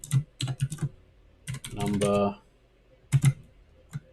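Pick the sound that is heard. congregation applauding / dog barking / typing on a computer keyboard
typing on a computer keyboard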